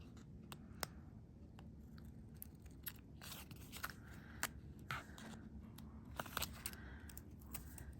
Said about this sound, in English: so we use scissors to trim, my forever sticky scissors.